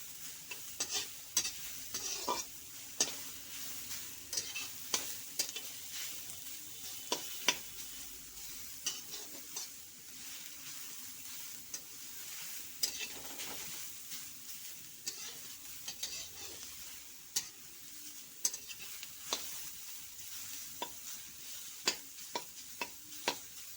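Grated beetroot is lightly roasted in a pan and stirred. Soft, frequent ticking scrapes of the spoon sit over a faint, steady sizzle, quiet and close, with no voices.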